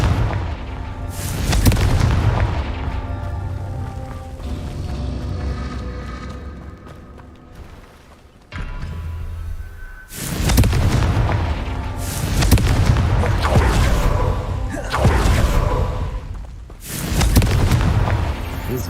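Confringo explosion spells in Hogwarts Legacy go off as a series of loud, deep blasts, about six or seven booms spaced a second or two apart, each with a rumbling decay.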